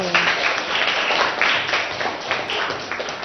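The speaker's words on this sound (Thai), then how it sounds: "ปรบมือให้" Students in a Thai primary math class clap together for a classmate, a dense, steady patter of many hands filling the room for about three seconds.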